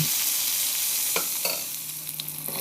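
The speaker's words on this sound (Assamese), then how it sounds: "আকৌ মই ভালদৰে লৰাই দিম আৰু ফ্ৰাই কৰি থাকিম" Okra and tomato sizzle in a pan over a high gas flame, a bright steady hiss broken by a few sharp scrapes and taps of stirring.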